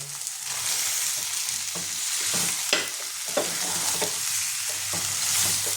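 Small-cut chicken stomach stir-fried in a thick masala, a loud continuous sizzle broken by scraping spatula strokes and a few sharper clacks against the pan, with no voices.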